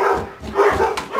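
Several dogs barking outdoors near a home kitchen, a steady run of barks and yips at moderate loudness with no talking.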